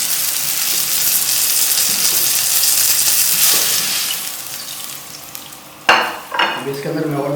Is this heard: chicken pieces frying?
yes